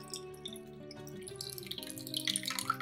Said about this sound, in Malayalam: അപ്പൊ നമുക്ക് പുതിന വെള്ളം അര കപ്പ് ചേർത്ത് കൊടുക്കാം